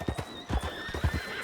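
A horse in the video game Red Dead Redemption 2 gives a brief whinny over quick, rhythmic clip-clop hoofbeats, close and moderately loud.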